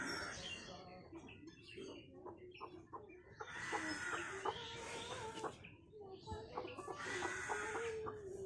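Household hens, one with young chicks, cluck in repeated low bursts close by, mixed with faint chirps.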